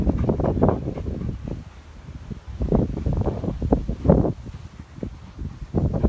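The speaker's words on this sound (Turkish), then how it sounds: "Burada rüzgar yoğun derecede." Strong wind gusting through a forest near an abandoned military site, roaring in uneven surges that rise and fall across the whole stretch, loud and close to the microphone with buffeting noise and no clear talk.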